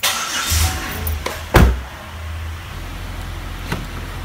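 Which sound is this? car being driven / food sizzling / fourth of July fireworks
car being driven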